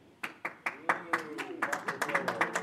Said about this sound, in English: Wow, look at this round of applause I'm getting.